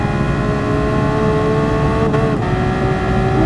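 Porsche 911 GT3 RS engine in the racing game Gran Turismo Sport, a loud continuous high-revving engine drone holding near constant pitch, with a brief dip in tone near the end.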